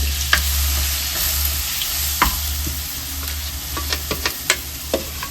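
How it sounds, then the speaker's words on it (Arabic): Chopped onion fries in hot oil with a loud, constant, close sizzle and hiss, with a few scattered crackles and utensil taps over it. "انا حطيت الزيت يسخن وفرمت بصله كبيره في الكبه. هنزل في الزيت."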